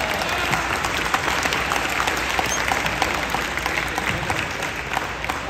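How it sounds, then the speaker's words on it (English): An audience of parents and students at a school event breaks into sustained applause, a thick continuous patter of many hands clapping at steady loudness with no voices standing out. "You can clap for that."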